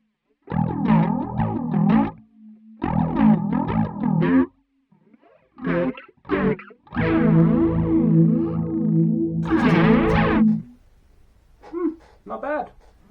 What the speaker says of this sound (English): Now the flanger.